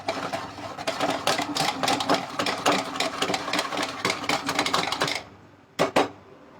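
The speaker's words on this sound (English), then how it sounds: "Now I take my whisk and just give it a little stir." A whisk stirs melting butter in a pan over a low gas flame, giving rapid, dense metallic clicking and scraping for about five seconds before it stops, followed by two brief taps.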